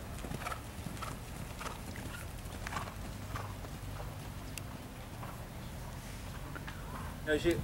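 Horses' hooves clip-clop around a riding ring as girls warm up, soft and somewhat distant, while an instructor's voice talks over them.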